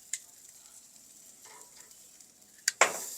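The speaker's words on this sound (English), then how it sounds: "I have the grill up to 500 degrees. And I'm going to reverse sear this." A tomahawk steak on a 500-degree grill gives a faint, steady sizzle, then a sudden loud burst of searing hiss near the end as the meat meets the hot grate.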